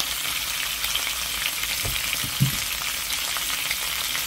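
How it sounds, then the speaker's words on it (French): Herbs and pink Lautrec garlic sizzle gently in fat over low heat, a steady soft hiss with a couple of brief louder pops and no voices. "Et vous faites cuire et rissoler ça à petit feu"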